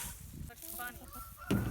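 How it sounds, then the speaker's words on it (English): Homestead chickens pecking at spilled wheat kernels during threshing, giving short clucks and squawks close by, with a louder burst at the end and faint talk in the background. "as you can see the chickens are enjoying"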